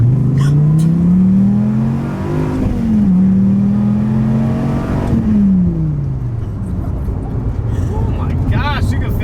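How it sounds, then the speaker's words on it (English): A 2013 Dodge Viper accelerates hard from a 25 mph roll, its loud engine note climbing steadily through two gear shifts, heard from inside the car over road noise, with a person speaking near the end. "This is a 25 roll in a 2013 Dodge Viper."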